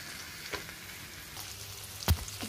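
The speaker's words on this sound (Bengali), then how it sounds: "আগে কাজু আর কিশমিশ দিয়ে দিচ্ছি। ঘি দিয়ে দিয়েছি আমি, ঘিয়ে এটা ভেজে নেব সুন্দর করে।" Cashews and raisins frying in ghee, a soft sizzle with a few light clinks and one sharp knock of a utensil against the pan.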